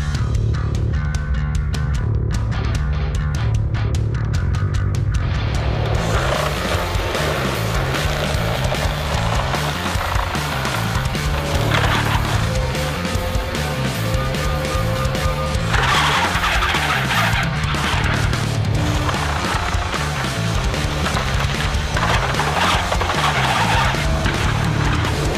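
Quick Attach Xtreme brush mower roaring steadily during a destruction test, a loud continuous engine drone with shifting load and grinding bursts as it chews through material, with no talking.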